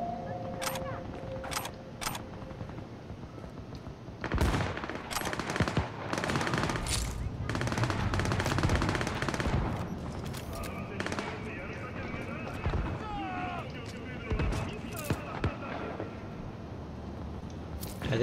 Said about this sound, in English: Oh good, they're already shooting at each other.